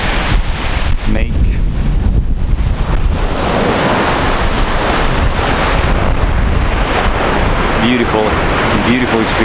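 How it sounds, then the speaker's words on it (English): Immense ocean surf crashing on a wild shore with strong wind buffeting the microphone, a loud continuous roar of breaking waves and gusts throughout. "It's immense ocean."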